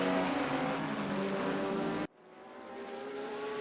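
A Porsche race car howls past at Sonoma Raceway, its engine a loud, dense roar that cuts off abruptly and then builds back from a quieter level.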